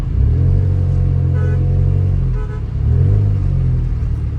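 A Suzuki Jimny engine drones and revs steadily as the small car climbs a rough, rocky mountain track on the Badgoi Pass road between Kalam and Kumrat Valley, the loud rumble swelling and easing with no voices.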